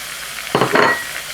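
Canned spinach is tipped into a hot pan and stirred, giving a short burst of sizzle and scraping that rises suddenly, peaks briefly, then fades back to quiet, with no talking.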